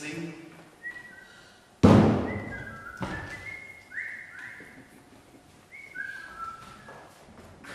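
A person whistles a short, wandering run of clear tones with slides between notes, broken by a heavy thud and a few softer knocks, fairly close.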